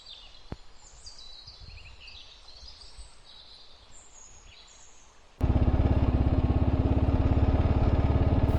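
Birds chirp faintly outdoors by a river in Michigan's Jordan Valley, then a motorcycle engine abruptly starts thumping loudly and steadily, a close rhythmic idle that continues to the end.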